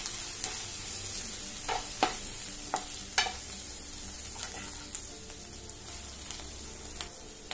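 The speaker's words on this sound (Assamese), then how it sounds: "দি গোটেইখিনি ভালদৰে লৰাই দিছোঁ।" Green chilli pickle mixture being stirred in a pan, with irregular scraping strokes of a spoon over a soft, steady background sizzle; no one speaks.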